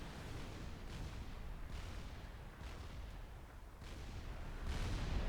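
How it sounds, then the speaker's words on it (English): Heavy artillery from a Fat Boy unit in the Supreme Commander strategy game pounds away as a dense, continuous rumble, with several deeper booming bursts rising out of the steady roar and no voices over it. "Those monstrous guns of the Fat Boy open up on that Colossus"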